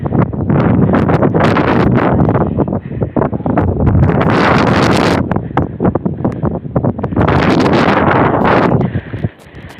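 Strong wind buffets the microphone during a New Mexico snowstorm, a loud, roaring, gusting rush that barely lets up before dropping off at the very end.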